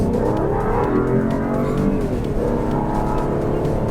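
Citroen C3 Aircross with a turbocharged engine and automatic gearbox accelerating hard from about 25 under full throttle, a loud, steady engine drone with rising harmonics and a brief dip around mid-clip suggesting a gear change, heard from inside the cabin.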